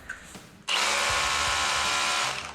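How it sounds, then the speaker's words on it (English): After a brief quiet moment, a Milwaukee M18 Fuel 1-inch SDS+ rotary hammer drill starts up close in its slower-spinning hammer mode and runs steadily for about two seconds, spinning and hammering, then cuts off. "this little paddle mode where it spins a little bit slower and it does hammer as well"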